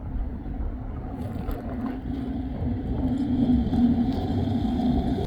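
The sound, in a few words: cars passing by on a road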